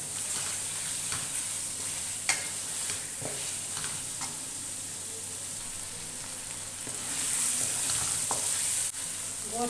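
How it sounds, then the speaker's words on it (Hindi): Goat meat frying in masala for aloo gosht, a continuous close sizzle with scattered scraping and stirring clicks, swelling louder near the end. "गोश्त को उस वक्त तक फ्राई करना है जब तक ये इनका कच्चापन खत्म ना हो जाए"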